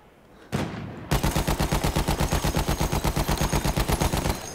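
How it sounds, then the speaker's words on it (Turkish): Battlefield 1 gameplay on a World War I map, with a rapid, loud burst of automatic gunfire sounding as evenly spaced close shots and a single sharp blast just before, heard without talk. "O tank daha vurmaya devam ediyor."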